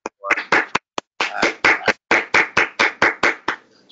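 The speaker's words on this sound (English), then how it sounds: "why don't we have a big round of applause for all our award recipients" Sparse claps ring out for award recipients at a virtual annual meeting, about a dozen separate sharp hand claps in a loose, uneven rhythm, close and fairly loud with brief gaps between them.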